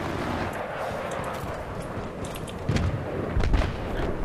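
Continuous gunfire and explosions from the video game Battlefield 3 rumble in a dense, steady wash, with a couple of louder booming bursts near the end and no speech.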